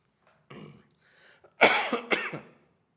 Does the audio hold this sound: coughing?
yes